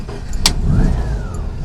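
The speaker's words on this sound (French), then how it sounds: "Je ne sais pas si vous voyez la facilité de démarrage." A Volkswagen Beetle 1200, converted to 12 volts, starts at the push of a button: a brief sharp click, then a steady mid-engine idle that rises slightly, loud and close, with no talk.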